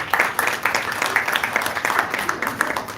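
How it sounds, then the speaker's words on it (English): A summit audience of business leaders applauds itself in a sustained round of clapping, dense and moderately loud, with sharper individual claps standing out near the front. "I would like you to clap for yourself for being here"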